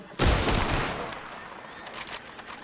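A loud gunshot cracks out in a Red Dead roleplay game set in 1903, followed by a long rolling echo and fainter rapid shots trailing off behind it.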